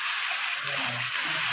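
Vegetables sautéing in a pan for a home lunch, an eggplant and potato dish, a steady broadband sizzle holding at even loudness throughout with faint low hum beneath.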